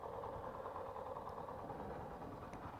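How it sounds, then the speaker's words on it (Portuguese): A 2018 Yamaha Fazer 150 motorcycle with its original engine and stock exhaust idles steadily nearby, a low even puttering hum with no talking over it. "Vamos ver o ronco do motor."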